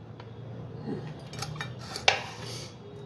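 A knife cutting bitter gourd into pieces, with a few light clicks and taps on a board and one sharper knock, close and quiet with no talking.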